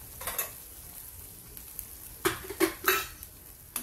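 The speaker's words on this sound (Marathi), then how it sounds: "छान हलवून घेऊ।" Spices, including red chilli powder, turmeric and kasuri methi, stirred in oil in a frying pan, with a light sizzle under a handful of quick spatula scrapes and clinks in short bursts.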